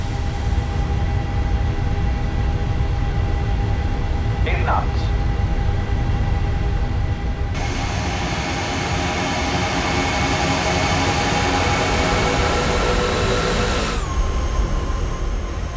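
An airliner, Aeroflot Nord Flight 821, accelerates down the runway for a night takeoff: a loud, steady engine roar with a high whine swells about halfway through and stays dense and continuous to the end.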